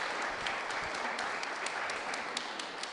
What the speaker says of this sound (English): a big round of applause for Sheila